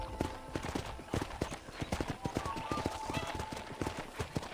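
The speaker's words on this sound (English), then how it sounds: "Red Dead horses, man. They're always trying to do something." Horse hooves clip-clop in a steady, even rhythm in the Western video game Red Dead Redemption, the repeated hoofbeats close and clear under a faint game background.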